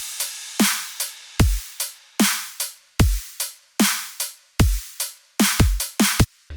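Programmed drum beat of kick, snare, ride, hi-hat and crash in FL Studio, a steady loop of punchy hits with ringing cymbal tails, played alone with no talking.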